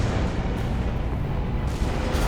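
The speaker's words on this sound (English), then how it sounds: "Preparing to fire rail cannon." Rail cannon fire from an Armored Core 6 mech battle: a continuous, loud, heavy booming roar with dense low rumble sustained throughout, no talk.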